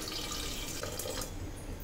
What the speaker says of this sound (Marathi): तर हे शिजताना पाणी घालायचं आपल्याला